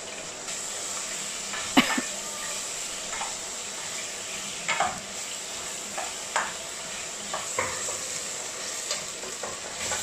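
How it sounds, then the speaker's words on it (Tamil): Beetroot being stirred with a ladle in a frying pan, a soft steady sizzle punctuated by a handful of scattered scrapes and taps of the ladle against the metal. "அந்த பக்கம் இப்போ நான் பீட்ரூட் எல்லாத்தையும் போட்டு நல்லா இது கரண்டியால் கொஞ்சம் கிளறி விடணும்"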